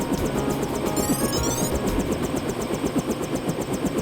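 A helicopter in Deus Ex runs with a steady, rapid thudding rotor pulse over a droning engine hum, loud and close, continuing evenly with no talk.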